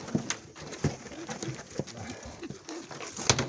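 Soft cooing and rustling of Mykolaiv pigeons close by, with a few brief bursts of wing flutter and movement scattered through.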